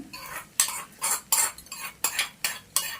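Tempering being added to thick curd and stirred with a metal spoon: about eight quick rhythmic scraping clinks against the bowl, close and crisp, with no voice.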